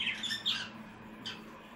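Rose pigeons calling in their coop, a couple of close squawky bird calls near the start and another shorter call later, with no talking.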